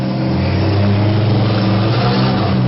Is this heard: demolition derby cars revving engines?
yes